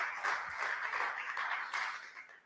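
Congregation clapping in a church, a soft scattered patter of hands from a modest group, fairly distant and uneven, fading toward the end.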